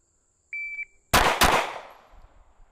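A short electronic shot-timer buzzer tone, then two sharp pistol shots in quick succession from a red-dot pistol at 10 yards, loud and close, with a brief echo trailing off.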